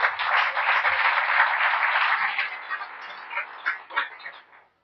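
A church congregation claps during a worship service: a broad wash of applause that runs steadily, then thins into scattered claps and fades to silence.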